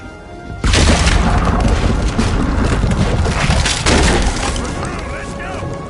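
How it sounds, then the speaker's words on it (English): A cannon fires in a PS4 video game, one heavy boom that breaks in sharply and rolls on as a long roar and rumble, with a second thump partway through before it fades. "What about that cannon?"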